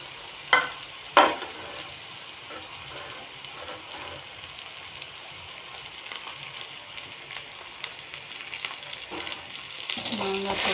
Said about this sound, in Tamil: மாங்காய் போட்டு 1 நிமிஷம் நல்லா கலந்து வச்சுக்கலாம்.